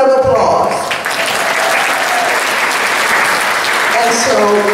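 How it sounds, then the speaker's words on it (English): An audience at a gala breaks into sustained applause, a broad, steady wash of many hands clapping at once. It holds fairly loud and even, with a few voices briefly audible near the start and end. "Another round of applause."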